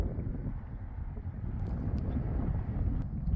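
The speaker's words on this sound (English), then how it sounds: "Ooh, the wind's still blowing." Cold wind blowing across a farm on a clear night, a steady loud low rumble buffeting the microphone throughout with no pauses, nothing else heard over it.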